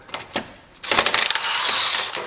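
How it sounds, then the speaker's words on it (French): An impact wrench fitted with a 16 mm socket loosens a suspension nut on a car. A few short mechanical clicks come first, then a loud, rapid hammering burst that settles into a sustained whirring rattle. "Ensuite, clé à choc, douille de 16."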